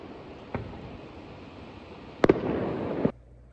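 Fireworks go off in the distance at night in Gero Onsen: a single pop, then a sharp double burst followed by crackling, with a low rumble between blasts.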